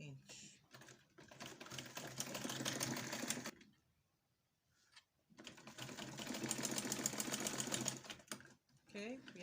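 A sewing machine stitches the side seams of a bridal shower robe in two close, rapid rattling runs with a short pause between them.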